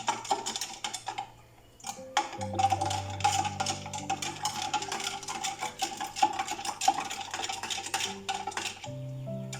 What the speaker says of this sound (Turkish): Karıştırarak mayayı eriteceğim.